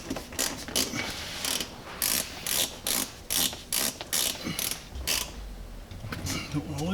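Loosening an M8 flange nut inside a Bentley Continental's headliner, heard as a close series of rhythmic metallic ratcheting bursts, roughly a dozen clicks of a ratchet tool, steady and alone without talk.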